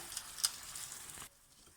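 Lemon chicken browning in a pan makes a soft, close sizzle with a few sharp pops. It stops abruptly partway through and leaves only a faint background hush, with no voices.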